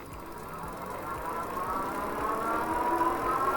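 Ride1Up Rift ST fat tire eBike accelerating on throttle, a steady motor whine rising in pitch over rolling tire and wind noise, fairly quiet.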